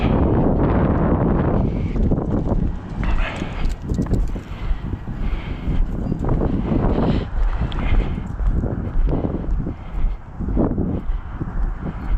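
Wind gusting hard outdoors along a winter street in Maine, buffeting the microphone with loud rumbling roars that rise and fall, blowing sand and road salt.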